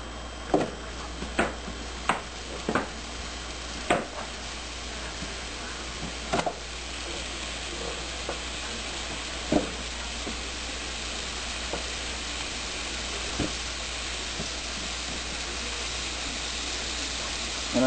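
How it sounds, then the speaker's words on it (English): Pre-cooked steaks sizzle while browning in a greased pan, a steady frying hiss broken by a few sharp pops and clicks, strongest early on and then settling into a constant sizzle. "And then I'm going to take the steaks, throw it on."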